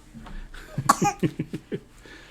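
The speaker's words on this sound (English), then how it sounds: "she's clearing her throat too" A young girl clears her throat and coughs several times in quick, rough bursts, close and fairly quiet.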